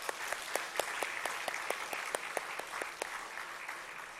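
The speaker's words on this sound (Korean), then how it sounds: "내일 수련회를 떠날 우리 청년 일부 격려하는 의미에서 한번 박수하겠습니다" A church congregation at a Wednesday prayer meeting claps together in a soft, steady rhythm, the crisp beats falling at an even pace, fairly quiet and somewhat distant throughout.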